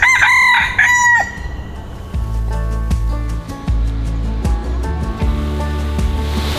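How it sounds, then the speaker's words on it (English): A rooster crows loudly and close by in a rainforest in Singapore, one drawn-out call over a steady wash of ambient noise. "So there are actual roosters here in the rainforest."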